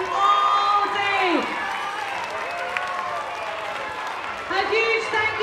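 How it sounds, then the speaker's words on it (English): An audience at a primary school interhouse music competition applauds teachers and teaching assistants, a broad steady wash of clapping and cheering that swells at the start and again near the end, with voices mixed in. "A massive round of applause to your teachers and teaching assistants and specialist teachers"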